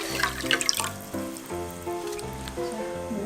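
About 1.5 liters of water pours into a cooking pot for Korean beef radish soup, a splashing, trickling stream under melodic background music.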